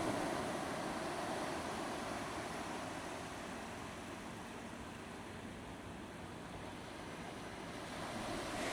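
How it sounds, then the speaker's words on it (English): Ocean waves wash steadily along a shore, a continuous broadband rush that swells slightly at the start and end, heard alone with a faint windy quality and no voices. "As you listen to the waves"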